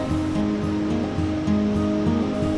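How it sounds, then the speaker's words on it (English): The milky Dudh Kosi river in Nepal rushes beneath a suspension bridge, a steady dense roar of water heard from nearby with no talk, though a low droning tone runs through it. "The suspension bridge crossing the Dudh Kosi River."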